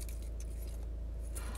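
A set of keys jangles faintly under a steady low rumble of a car interior, with small metallic clinks scattered throughout.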